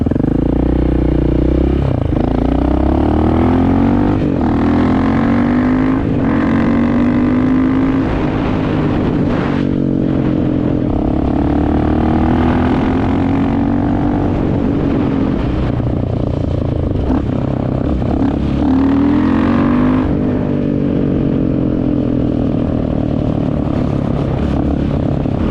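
A KTM 690 motorcycle fitted with an Arrow exhaust, a modified intake and a tune runs loud and close for the whole stretch. Its rough, throbbing exhaust note rises and falls with throttle blips, and no voices are heard.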